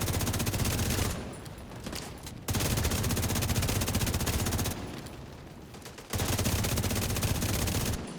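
Sustained rifle fire from an assault rifle in the shooter game The Division 2, loud and continuous in long rapid bursts with two short pauses, with no talk over it.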